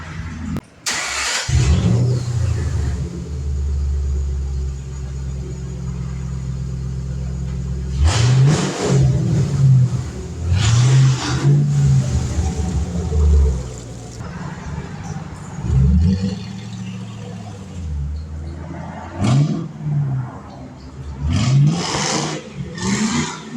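A 2006 Mustang GT S197 with a five-speed manual starts up and revs hard in repeated loud, close bursts while drying its tires with a burnout, the engine surging and dropping between pulls.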